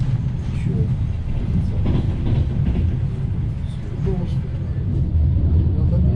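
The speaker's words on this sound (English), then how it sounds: "Lots more goods wagons and passenger coaches parked up as we approach Odessa." Ukrainian intercity train from Kyiv to Odesa rolling steadily, a continuous loud low rumble of wheels and carriage noise heard from inside, with faint voices in the background.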